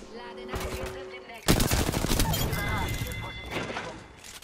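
Apex Legends gunfire comes in sharp bursts and rapid volleys. A loud barrage starts partway through over a busy mix of game effects, and a voice may be faintly present.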